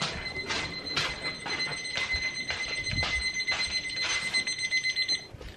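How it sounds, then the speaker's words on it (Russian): An alarm clock rings in rapid repeated bursts of high electronic beeps, steady and close, continuing for several seconds before stopping. "это звенит будильник о том, что 12 и надо ложиться спать"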